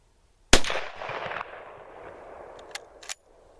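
A single sharp, loud shot from a Mauser K98 rifle cracks out, followed by a rolling echo that fades over a couple of seconds. A few faint clicks follow.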